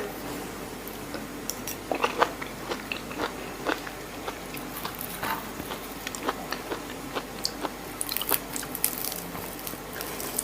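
Raw beef liver is bitten and chewed close to the mic, with repeated wet crunchy bites and squishy chewing in an irregular rhythm, fairly quiet and with no talk.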